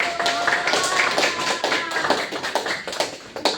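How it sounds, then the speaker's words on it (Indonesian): A classroom group claps for the first group after a micro-teaching presentation, a dense burst of many hands that starts loud and thins into scattered claps. Voices murmur faintly underneath. "Kita kasih aplaus dulu buat kelompok 1."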